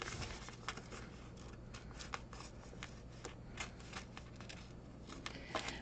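Cheap, worn scissors snipping through material, a steady run of crisp cutting clicks and rustles close by with no talking.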